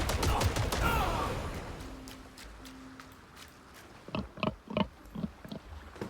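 A pig in the video game Titan Quest 2 gives short grunts, a few brief snorting bursts near the end after a louder rumbling stretch of game ambience and distant clatter.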